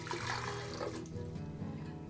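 Water pours steadily from a cup into the jar of a Froothie Optimum 9200A Vortex power blender, a faint, continuous splashing trickle heard alone.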